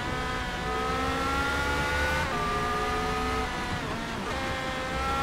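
Race car engine in Forza Motorsport, driven on a Thrustmaster T300RS wheel during an online daily race, holding a loud, steady high-revving drone with rising gear pitches and a brief downshift blip near the end.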